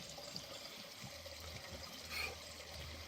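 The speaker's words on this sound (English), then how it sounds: "Lots of water going in. It's from the rain last night." Rainwater from last night's rain trickling and pouring into a pond, a faint steady watery flow with a brief louder splash partway through, no speech.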